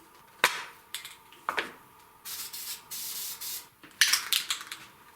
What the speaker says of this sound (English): I'm going to take some spray paint